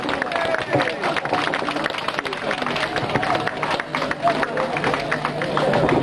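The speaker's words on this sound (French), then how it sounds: "On applaudit bien fort la branche de Verviers." Audience at a scouting pioneers event clapping for the Verviers branch, sustained dense applause with crowd murmur and a voice speaking over it.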